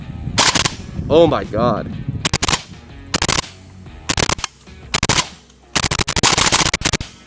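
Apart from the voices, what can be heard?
Zastava M90 5.56 AK rifle shots with Zvuk suppressor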